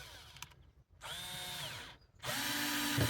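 A cordless power drill drives a small screw into the wooden frame of a garden coldframe in two close bursts, its motor whine rising and falling as it spins up and slows.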